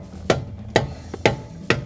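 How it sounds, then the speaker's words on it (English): A hammer tapping an extractor socket onto a stripped wheel lock: four sharp metallic strikes spaced about half a second apart, plus one fainter tap, close and clear against a quiet background. "You wanna give it a little tap on with a hammer?"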